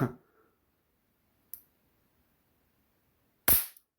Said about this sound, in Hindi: इतना तगड़ा खतरनाक स्पार्क कर रहा है यार